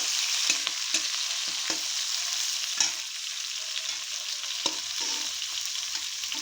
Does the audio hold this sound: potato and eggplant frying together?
yes